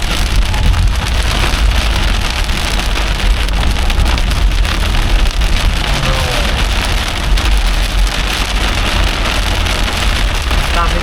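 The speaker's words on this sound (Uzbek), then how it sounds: "Sekinlashamiz yomg'irda." Rain drums loudly and continuously on a car being driven on a road in Galveston, Texas, a dense steady roar mixed with low road rumble and wind noise, without let-up.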